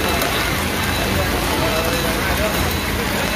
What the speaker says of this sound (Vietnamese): Bây giờ nó lại nặng hạt hơn rồi, mưa lại mau hơn